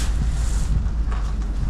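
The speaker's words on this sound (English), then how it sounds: "And it just got windy-er." Wind blowing outdoors beside a trailer: a steady low rumble of gusts buffeting the microphone, loud and continuous throughout the short stretch.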